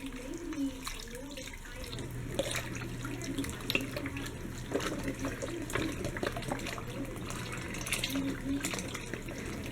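Beef broth poured from a container into a soup pot on a home stovetop, a steady liquid pour running for several seconds with faint kitchen background and no talk.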